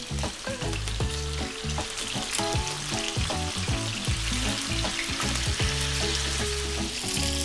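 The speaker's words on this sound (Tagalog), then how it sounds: "habang piniprito natin yung ating tuna, nadidinig naman ninyo yung tunog ng ating pagpiprito" Tuna steak frying in hot oil in a pan, a steady, dense sizzle with crackling pops and occasional stirring scrapes throughout, close and continuous with no voices.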